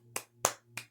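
Three close, crisp hand claps in slow succession, each short and dry over a low steady hum.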